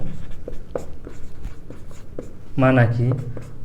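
A pen scratching on paper while math is worked out, a series of quick, light strokes and taps, with someone speaking over them in Hindi.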